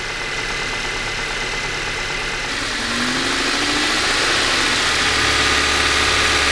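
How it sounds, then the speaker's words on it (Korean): A generator engine runs steadily with a low, uneven, misfiring rumble and broadband noise, its pulley in poor condition, growing slightly louder partway through; no voices. "엔진 부조도 심하네 이거."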